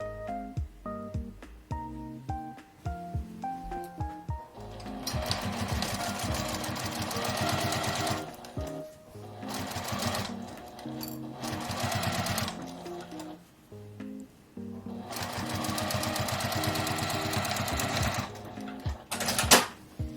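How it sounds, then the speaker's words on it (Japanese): A sewing machine stitches a tablet case with an L-shaped zipper closed, running in quick rattling bursts separated by short pauses, loud and close with no voices. "ここを縫い閉じます。"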